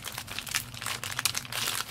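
Close crinkling and rustling of a parcel's paper wrapping being handled and pulled apart, in quick irregular bursts.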